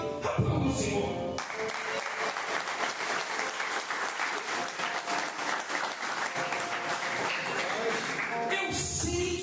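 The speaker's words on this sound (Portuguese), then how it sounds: "aplauda o Senhor" Church congregation at a Sunday service applauds together, a sustained, dense burst of clapping lasting several seconds, with brief voice and music moments at the start and end.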